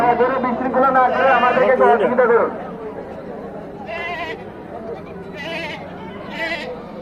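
A person talks up close at a livestock market, then one of two large goats bleats three times in short, wavering cries at a moderate distance.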